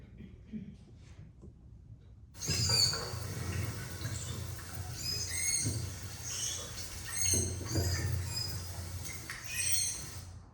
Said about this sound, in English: I'm going to play some manatee sounds for you so you can understand what a manatee sounds like